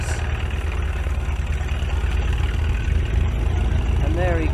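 Vintage tractor engine running at a ploughing match, a steady low rumbling drone throughout, fairly loud and close, with a brief higher tonal sound near the end.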